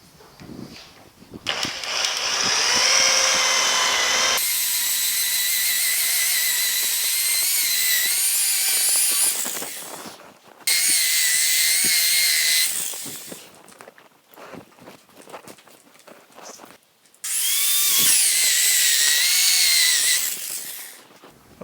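A power polisher buffs compound into the fender of a 1950 Chevy truck, whining loudly in three bursts with short pauses between them and pitch shifts as the load changes.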